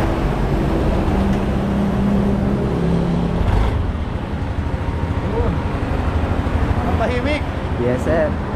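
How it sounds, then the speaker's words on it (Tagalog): A 2024 Yamaha NMAX scooter idles steadily after its first start, giving a constant low engine hum close by, with people talking over it throughout. "ito yung unang start natin dito sa ating NMAX"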